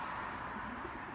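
A released pigeon trying to get back into its loft gives soft, low cooing against a steady background hum, faint and somewhat distant.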